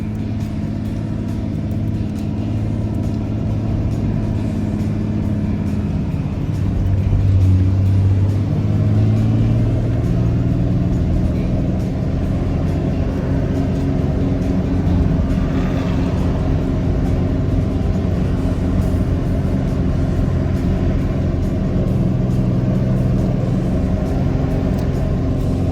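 Motorbikes ride along a single trail, a continuous engine drone with rising and falling revs, steady and fairly close, with no talk.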